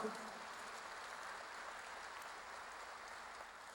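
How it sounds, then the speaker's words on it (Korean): Steady, faint applause from a church congregation fills the space, a continuous patter of clapping hands without any clear voices above it. "박수로 맞아주시기 바랍니다."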